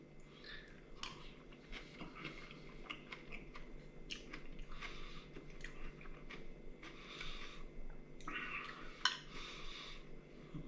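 Close, soft chewing of a bite of Tahitian poisson cru, raw tuna marinated with green onions, tomato and cucumber, with wet squishy bites and faint utensil clicks over a low room hum.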